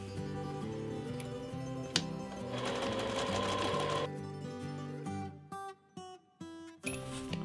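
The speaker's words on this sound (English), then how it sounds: "Go ahead and stitch a seam down that 12 and a half inch side." Sewing machine stitching a seam along the 12 and a half inch side of an interior bucket bag piece, running in fast, rhythmic bursts with brief stops and restarts near the end, close and clear.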